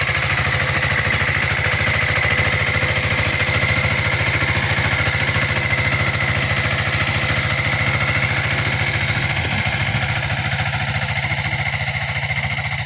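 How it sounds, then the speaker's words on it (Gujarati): An engine-driven pesticide sprayer feeding four nozzles runs in a groundnut field, giving a loud, constant mechanical drone with a steady low throb that holds unchanged throughout, with no talking. "આપણે કરી દીધું દવા છાંટવાનું ચાલુ."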